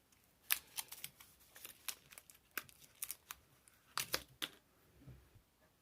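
A knife slices and tears through the packaging of a Vector Optics Condor 2x42 red dot sight, giving faint, close, sporadic cuts, rips and plastic crinkles in short bursts.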